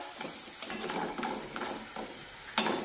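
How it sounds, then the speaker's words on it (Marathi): Wheat flour dough balls frying in oil over medium heat, a soft continuous sizzle broken by several sharp clinks and stirs of a utensil against the pan, close and fairly quiet. "हे मुटके सुद्धा आपल्याला व्यवस्थित तळून घ्यायचे आहे सगळीकडून छान सोनेरी रंग येईपर्यंत"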